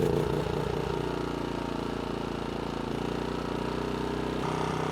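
A BISON generator engine runs close by in a loud, steady drone after a remote start, its pitch shifting slightly as it settles into idle, with no talking.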